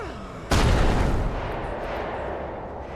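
A grenade explosion in the Rogue Trader video game, one sudden loud boom that hits after a short pause and rolls into a long rumbling decay.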